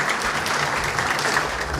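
Audience clapping at an awards ceremony for an economics prize and anniversary celebration, a brief, dense burst of applause from many hands that holds steady throughout.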